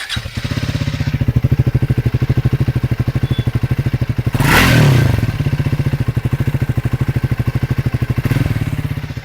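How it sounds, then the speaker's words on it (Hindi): A Triumph Speed 450 motorcycle idles with a steady, close, rapid thumping beat from its engine and exhaust. Midway it gives one short, louder rev before settling straight back into the even idle. "मैं एक बार एग्जॉस्ट जो है ट्रायम्फ का स्टार्ट करना चाहूँगा कि साउंड क्या है, इंजन साउंड कैसा है।"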